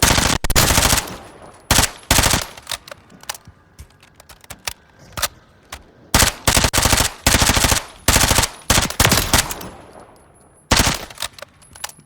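Suppressed MP5 SD4 submachine gun in the Call of Duty: Modern Warfare III game firing fully automatic, several sharp rapid bursts separated by short pauses, loud and close with no talking.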